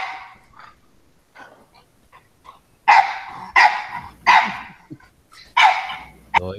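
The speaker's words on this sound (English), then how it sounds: "Joys of having dogs." Dogs, one of them a small one that rarely makes noise, let out a run of loud, sharp barks close by, with quieter yips and whimpers before them, spaced about a second apart.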